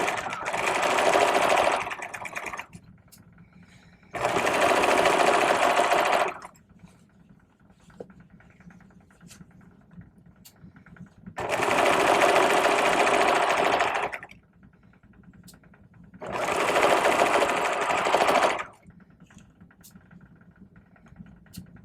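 Sewing machine stitching a vest bag lining seam in four separate bursts of rapid whirring, each lasting about two seconds, with quiet pauses between them.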